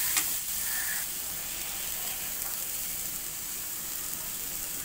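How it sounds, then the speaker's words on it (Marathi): Chopped onion frying in a pan until reddish and soft, ahead of adding spices for mixed-pulse tandoori momos. A steady, fairly quiet sizzle with a faint hiss runs throughout. "आणि हा कांदा लालसर होईपर्यंत फ्राय करून घेऊया।"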